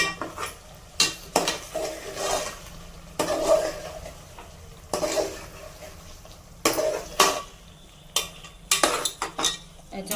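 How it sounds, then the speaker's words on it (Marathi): Chillies stirred into spiced chicken tandoori biryani in a pot, with intermittent metal spoon scrapes and clinks against the pot over a soft background, bursts coming in irregular clusters. "हे मिरच्या आपण वरतून टाकून देऊया हलवून घेऊया"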